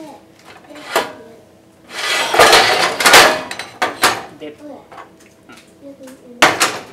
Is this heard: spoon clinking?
yes